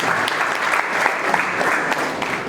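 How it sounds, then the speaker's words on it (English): A loud, steady wash of audience applause at a college entrepreneurship summit, thanking the organizers and coordinators, dense and continuous throughout. "let's big round of applause for all the organizers, E-Cell, coordinators"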